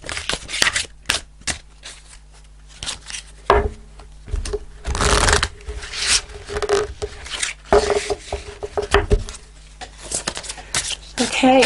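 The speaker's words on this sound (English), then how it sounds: "I'm going to pull a reading card" A deck of tarot cards is shuffled and cards are pulled, making close, loud riffling and flicking bursts separated by short pauses.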